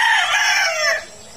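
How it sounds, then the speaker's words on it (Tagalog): A bulik rooster from Bacolod, kept in a backyard flock, lets out a loud, close crow. The single drawn-out call lasts about a second and ends abruptly, with no speech over it. "Gaganda ng manok."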